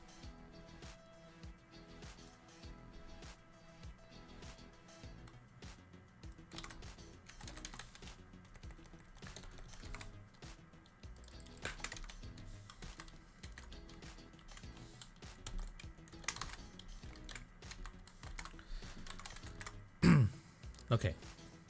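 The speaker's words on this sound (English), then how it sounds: "I'm going to be typing in this next item" Someone types on a computer keyboard, and quiet clusters of clicks keep up throughout. A voice talks faintly in the background, and a brief clatter comes near the end.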